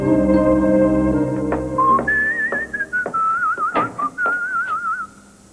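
A person whistles a wavering melody close up for several seconds, clear and loud over a faint musical background, ending abruptly.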